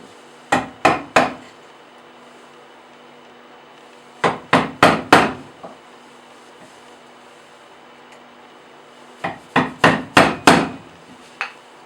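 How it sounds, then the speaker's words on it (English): A mallet drives a chisel into wood to cut a through mortise for a coffee table tenon. Three clusters of sharp, hard knocks, four or five strikes each, ring out close and loud, with quiet pauses between them and no talking. "Here I'm cutting the mortise for the tenon"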